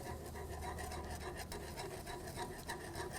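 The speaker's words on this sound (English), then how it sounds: "And whisk it as this is going in, otherwise it's going to clump." A whisk scraping and rubbing steadily in a saucepan as Swerve sweetener is stirred into liquid, a continuous close, gritty swishing with no pauses.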